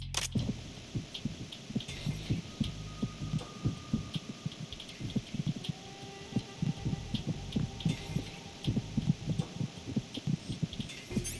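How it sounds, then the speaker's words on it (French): Throbbing heartbeat effect from the stealth game Metal Gear Solid 2, a steady run of low, muffled double pulses repeating over a faint background hum, with no talk over it. "Il y en a un qui avait un battement de cœur chelou"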